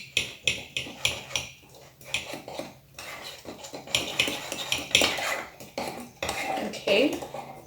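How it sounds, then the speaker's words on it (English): A spoon clinks and scrapes rapidly against a ceramic mug while stirring milk into lumpy mug brownie batter, producing a steady run of close, bright metallic taps. "and then you're supposed to mix this."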